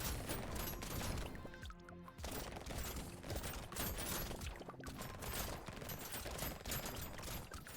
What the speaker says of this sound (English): so you can see it's firing multiple beams.